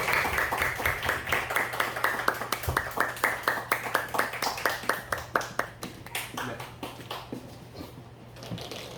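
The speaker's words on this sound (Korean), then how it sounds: "박수 쳐주시죠." Steady clapping from a room of people, a brisk rhythmic applause that gradually thins out and softens toward the end.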